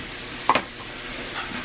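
Eggs fry in a cast iron pan with a soft, even sizzle and a brief clink near the start, close by and moderate in level.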